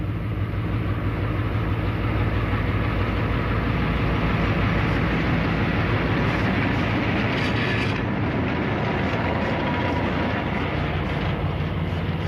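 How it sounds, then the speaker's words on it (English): The Ghan's locomotive slowly hauls the long passenger train along old track, a loud, continuous low rumble and drone with steady wheel and engine noise that never lets up. "It'll take the locomotive a good kilometre or two to get the train wound up"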